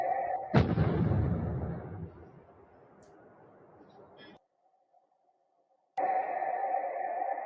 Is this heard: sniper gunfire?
yes